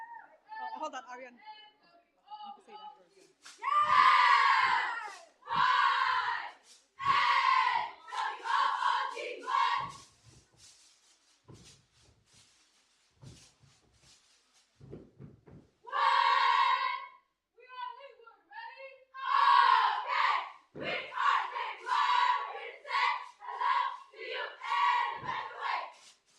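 A school cheer squad performs a group cheer, shouting rhythmic chanted calls in unison, loud and close, in bursts separated by short pauses.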